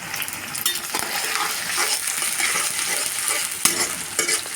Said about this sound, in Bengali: হালকা নেড়ে চেড়ে ভেজে নেব আমরা